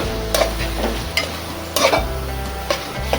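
Chopped ingredients for a leftover-rice prawn pickle dish are sautéed and stirred in a pan, with steady close sizzling and several sharp spatula scrapes and clinks at an uneven pace.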